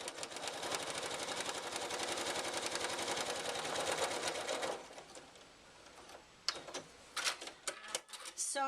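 A sewing machine stitches jelly roll quilt strips together in a fast, even mechanical chatter for several seconds, then stops, leaving scattered clicks and handling noises.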